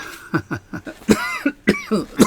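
A series of about eight sharp, forceful coughs in quick succession, close and loud, with brief gaps between bursts.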